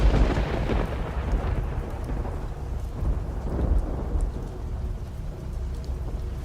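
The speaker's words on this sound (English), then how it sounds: "Thunder came rolling in." Rolling thunder rumbles low and long through a steady rainstorm, with rain hissing continuously and a stronger roll near the start, moderately loud and without voices.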